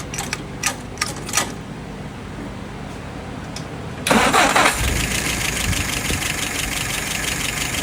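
A machine with a J D's WO 539S engine, already warmed up, cranks and fires: a few sharp clicks and a quiet stretch, then a loud burst as it catches and settles into a steady, rumbling idle.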